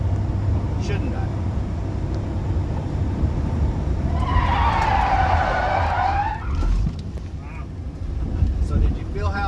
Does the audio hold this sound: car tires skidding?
yes